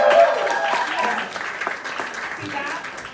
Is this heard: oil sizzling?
no